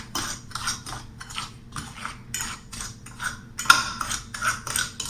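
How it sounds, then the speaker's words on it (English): Eggplant filling seasoned with oregano leaf gets mixed with a utensil, a series of quick scraping, clicking strokes in uneven bursts, close and fairly quiet, with no talking. "I'm just gonna give this a mix here"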